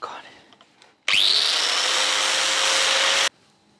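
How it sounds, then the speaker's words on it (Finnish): An abrasive grinding disc on a Makita grinder, used while fitting a hydraulic handbrake to a Mk IV Supra, gives one loud, steady high-pitched grind of about two seconds that starts and stops abruptly. "Sitten vielä ihan vähän hiomalaikkaa."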